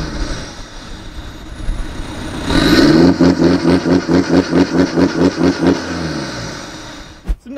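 A Fiat Linea engine with a straight downpipe exhaust and no muffler revs hard, a loud, raw roar pulsing in rapid rhythmic bursts before settling back toward idle.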